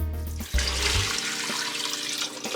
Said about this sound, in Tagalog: Gulan ako og tubig syempre.